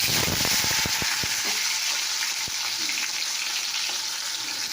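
Tomatoes hit hot oil already seasoned with cumin powder, turmeric, salt, ginger and chili powder, sending up a loud, steady sizzle close by, broken by a few sharp spatters and clicks from the pan early on.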